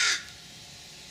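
A crow gives one short, fairly loud caw at the very start, followed by quiet ambient background with no further calls.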